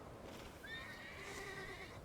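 A horse whinnies in the fantasy video game The Thaumaturge, a faint, brief rising neigh lasting over a second against a soft, muffled background.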